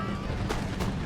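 Troops in Empire: Total War fire musket volleys, with two sharp, close cracks about a third of a second apart, rising over a continuous roar of battle noise.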